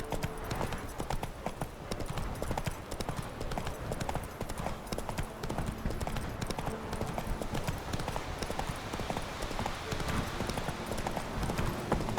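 Hooves of Roach, a horse in The Witcher video game, gallop in a steady, dense clip-clop that carries on nonstop at moderate loudness, with faint voices now and then underneath.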